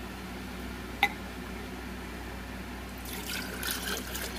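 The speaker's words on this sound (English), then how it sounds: "Let's gently pour it in here." Crystal-growing solution is poured from a stirring container into a jar, a faint liquid trickle and splash building in the last seconds after a single sharp clink, quiet and close.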